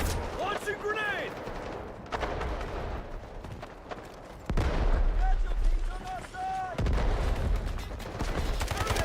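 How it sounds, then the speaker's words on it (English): Grenade launcher fire and explosions in the video game Delta Force, with loud thumping blasts and bursts of gunfire across a busy battlefield, while players talk over the action. "Launching grenade!"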